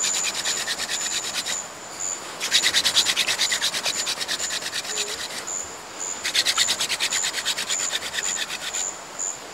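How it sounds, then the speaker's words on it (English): A wooden fire drill spins in a rainforest, rapid rhythmic rubbing of wood on wood in two long vigorous bursts, a steady scraping friction with brief pauses between. "When I drill, a powder will collect and that will eventually start to glow."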